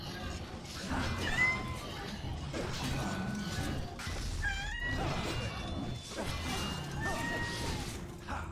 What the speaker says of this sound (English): You noisy fucking kitty cat.